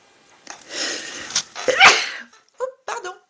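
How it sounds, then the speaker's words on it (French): A single sneeze bursts out in a quiet room, followed by a couple of short breathy sounds close to the microphone. "Ah ben, un petit éternuement."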